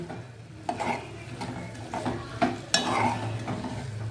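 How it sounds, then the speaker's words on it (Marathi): Sprouted moth beans tossed with fried onion in a pan over high flame, a continuous sizzle broken by several sharp scrapes and knocks of a spatula against the pan. "आता त्यात आपण ही मटकी टाकून घेऊया आता मटकी आपण मोठ्या गॅसवरती व्यवस्थित परतून घ्यायची"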